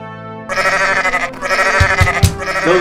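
A goat bleats loudly and close by in long wavering cries, with a few short thumps underneath and no speech.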